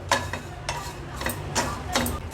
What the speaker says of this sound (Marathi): आपण दगडफूल जायपत्री आणि मायपत्री भाजत होतो